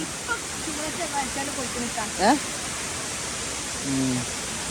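A waterfall in Malappuram roars as a steady broadband rush throughout, with voices talking over it and a brief louder burst near the middle.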